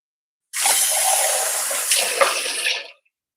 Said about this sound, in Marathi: आता थोडस याच्यात पाणी घालायचं